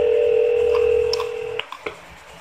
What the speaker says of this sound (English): I made an important phone call.